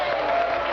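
Audience applause at a church event, a dense steady wash of clapping and crowd noise filling the whole short moment at moderate loudness.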